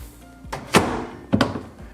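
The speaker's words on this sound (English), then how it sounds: "Snug those down, and we can close our door." The door of a GE microwave is pushed shut, giving two solid thunks about half a second apart, each with a quick click of the latch, close and fairly loud.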